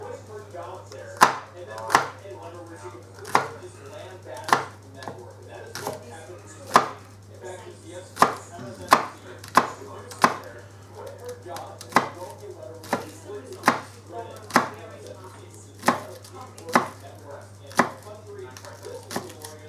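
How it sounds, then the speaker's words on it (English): Knife chopping green onions on a cutting board for Mexican shredded beef, a steady series of about twenty sharp, close chops spaced roughly a second apart over a constant low hum. "just chop them up just like you did with the chilies"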